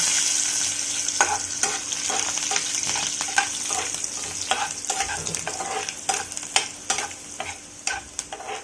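Garlic and curry leaves frying in hot oil in a pan, a steady close sizzle broken by repeated scraping stirs, with no talk.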